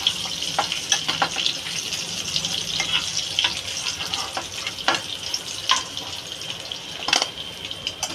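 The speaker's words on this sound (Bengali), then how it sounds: "মাছটা ভাজা হয়ে গেছে" Fish fries in hot oil with a steady close sizzle and crackle, punctuated by occasional sharp spatters and a few scraping stirs, with no speech.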